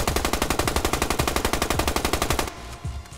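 Rapid automatic fire from the SA Hellion gun in the Warface shooter game, a loud steady burst of evenly spaced shots lasting about two and a half seconds, then stopping into a quieter tail.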